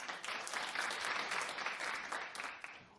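Studio audience on a daytime talk show applauds steadily for about three seconds, a dense wash of clapping that swells early and tapers slightly near the end, with no voices over it.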